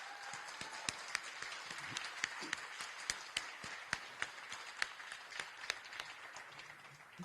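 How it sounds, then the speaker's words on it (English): Scattered applause at a press conference on Los Angeles homeless count results, with distinct individual claps sounding faint and distant over a quiet room, spread thinly across several seconds. "Stand up so we can give you a round of applause."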